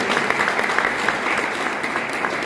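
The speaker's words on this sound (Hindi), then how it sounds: "ताली जोरदार बजाइए" A crowd claps loudly and continuously, a bright, even wash of many hands with faint crackling peaks, and no voices break through.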